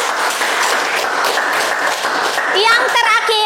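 Students applauding their classmates in a classroom lesson, brisk continuous clapping throughout, with a voice briefly heard near the end.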